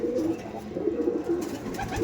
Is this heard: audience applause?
no